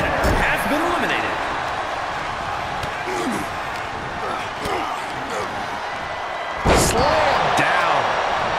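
A wrestler slamming down onto the mat during a 30-man Royal Rumble in WWE 2K24: a loud, broad thud lands over steady crowd noise and commentary, with other scattered impacts beforehand.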